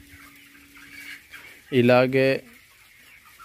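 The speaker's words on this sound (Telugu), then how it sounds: "24 డేస్ బర్డ్స్ ఇవి" Broiler chickens, 24 days old, cluck and call in a loud burst in the middle, near and clear, over a low farm-shed background with quiet talk before it.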